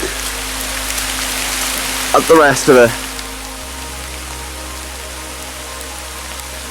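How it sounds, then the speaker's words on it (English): Steady rain falls outdoors at the old Windsor Colliery, a constant close hiss throughout, with a short burst of someone talking partway through. "It is now raining"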